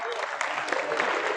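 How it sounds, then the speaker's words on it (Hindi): A classroom of students claps for a classmate, a short burst of dense applause at steady loudness, with voices mixed in. "इसकी ताली बजाओ"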